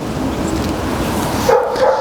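A dog whimpering and yipping during an obedience training session, short high whines over a steady loud background noise, close to the listener.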